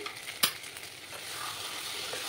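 Fried peanuts tossed into kachu shak (taro greens) sizzling in a frying pan, giving one brief clatter over a steady, even frying hiss that continues on its own.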